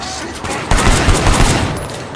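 9mm pistol fire in the video game Sleeping Dogs: a loud, dense burst of rapid gunshots that erupts after a brief lull and continues to the end.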